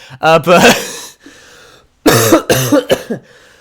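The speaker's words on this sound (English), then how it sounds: "I've had a nagging cough in my throat" Several harsh, bursty coughs come in two clusters, close and fairly loud, separated by a short quiet gap with some breathy throat noise.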